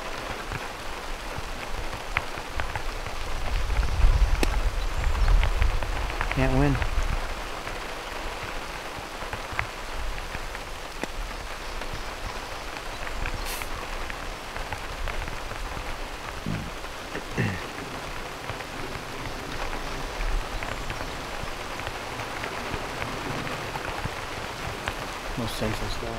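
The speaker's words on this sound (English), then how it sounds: "the freaking rain starts coming down." Steady heavy rain pours down continuously, with a brief spoken remark and some wind rumble mixed in.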